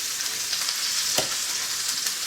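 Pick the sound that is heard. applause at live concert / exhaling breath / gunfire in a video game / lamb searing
lamb searing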